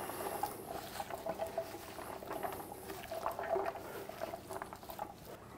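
Water being poured into a pot of beef goulash gives a faint, steady liquid patter and light bubbling, soft and continuous without any talk.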